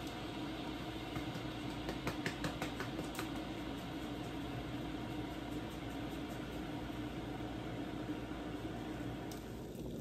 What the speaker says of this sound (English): Well, I hear it's boiling and I see the steam coming up.